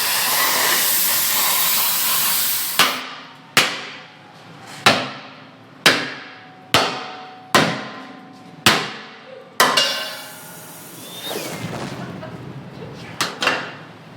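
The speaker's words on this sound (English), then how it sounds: "He shouldn't be swinging a hammer that hard." Heavy hammer blows strike a welded metal shock tower, about eight loud ringing clanks in a steady rhythm after a stretch of hissing noise, then a couple more strikes near the end.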